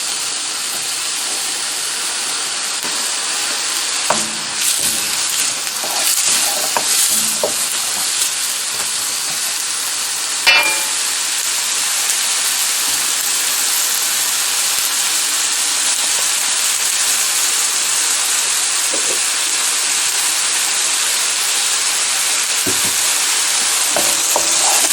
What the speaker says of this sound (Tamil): வெட்டி வச்சுருக்க பெப்பர்லையும் அதுக்கு போடுறேன். இப்போ வதங்கிடுவோம்.